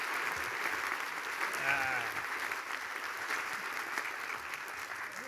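Steady applause fills a hall during an undergraduate college commencement ceremony as a faculty member is honored, a continuous moderate clapping wash with a brief voice over it.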